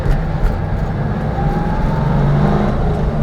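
Porsche 993 Gemballa Turbo engine droning and revving from inside a cabin with no soundproofing, a loud, steady low rumble that continues for the whole stretch with no talk over it.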